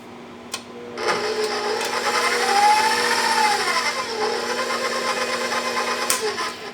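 An electric mixer whirs steadily as it beats a cheesecake dessert sauce, starting after a brief pause and holding a loud, even motor whine with slight pitch wavering as it works the mixture, then stopping near the end.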